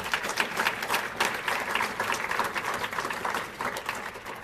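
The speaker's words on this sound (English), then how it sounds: "let's give them a big round of applause" Audience applause filling the hall at a university athletics celebration of excellence, a dense, steady wash of many hands clapping throughout without a break.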